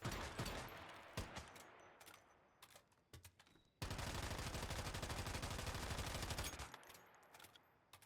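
Rapid SMG fire in Once Human, loud sustained automatic bursts with a long unbroken stream in the middle, sharp individual shots before and after.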